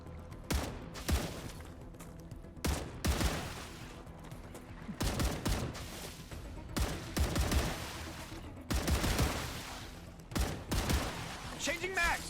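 Video game gunfire: bursts of loud, close automatic fire, some single sharp shots and some rapid rattling volleys, repeating throughout with short gaps. Speech is mixed in.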